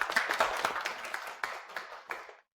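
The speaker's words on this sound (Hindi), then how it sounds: "तालियों से इनका स्वागत करें।" Short burst of audience clapping welcoming a new company supervisor to the office, several pairs of hands hitting at once for a couple of seconds before stopping abruptly, fairly close with a faint voice underneath.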